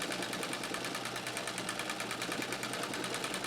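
A White Rotary treadle sewing machine stitches, likely free-motion quilting, with a quick regular needle clatter and rhythmic mechanical ticking, close and fairly quiet, steady throughout.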